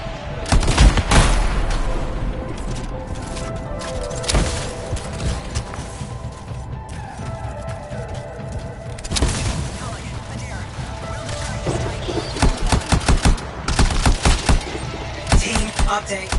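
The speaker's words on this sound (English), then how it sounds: "Firing my second Titan." Titan weapon in a sci-fi shooter video game firing repeated loud, rapid bursts in clusters across the stretch, mixed with other battle noise and someone talking over it.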